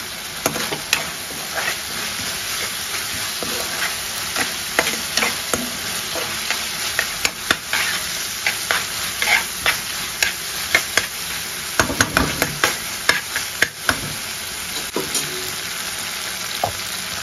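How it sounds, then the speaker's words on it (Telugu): Green chillies and onions sizzle steadily in a hot pan while a spoon stirs them, scraping and clicking against the metal in frequent uneven strokes over the close, loud continuous frying hiss. "ఇప్పుడు చూడండి, ఇది బాగా వేగింది, ఎక్కువ వేగకూడదు, జస్ట్ ఎప్పుడైనా ఇట్లానే ఉండాలన్నమాట. పచ్చిమిరపకాయలు కానీ ఎర్రగడ్డలు కానీ ఎక్కువ వేగకూడదు"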